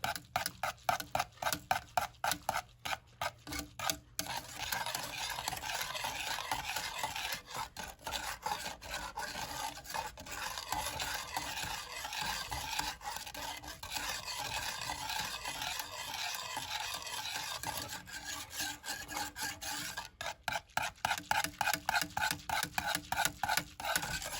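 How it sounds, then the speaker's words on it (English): A whisk scrapes and rubs steadily through thickening chocolate pudding filling in a pot. Quick rhythmic clicks open and close a long, soft, continuous swishing stretch, all fairly quiet and close. "you want to just keep whisking it so that it helps to thicken it"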